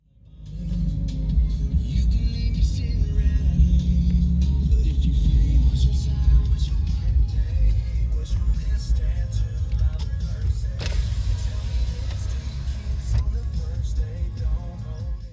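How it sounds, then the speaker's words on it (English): Road traffic near a campground at dusk, a steady low rumble of passing vehicles heard from a distance, continuous and fairly loud throughout with no talking. "And I'm surprised at the road noise."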